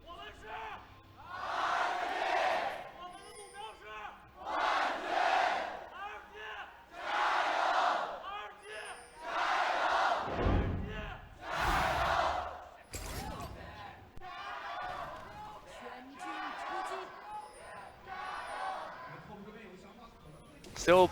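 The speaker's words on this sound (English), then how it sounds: "Still plenty of RNG fans there cheering on their team" RNG fans cheer in waves at a League of Legends esports match, with loud repeated crowd roars and chants rising and falling while a commentator talks between them.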